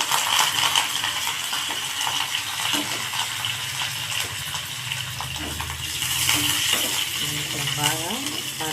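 A fried asafoetida tempering being stirred in a pan, with steady sizzling and the scrape and clink of a spoon against metal, fairly close, under a voice talking.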